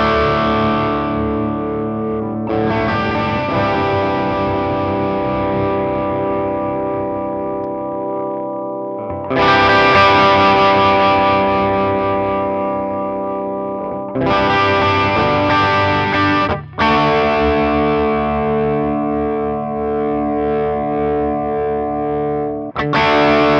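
Electric guitar runs through a J Rockett Audio Designs pedal as the treble knob is turned, with distorted, ringing chords struck and left to sustain in several long passes, each one darker or brighter in tone.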